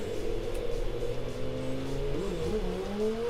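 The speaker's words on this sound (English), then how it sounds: "Bit of wheel spin." A heavily modified car's engine revs hard under acceleration with a close, steady droning roar whose pitch climbs and wavers. No voices are heard.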